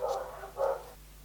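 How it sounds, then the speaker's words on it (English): Neighbours' dogs bark in the background while a chaffinch is painted, two short, muffled, fairly faint barks in quick succession with no talk. "So we've got a little bit of dog background noise today."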